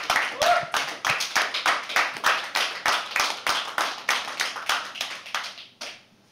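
An audience claps at a poetry open mic, a dense, steady patter of many hands at close range that fades and stops near the end.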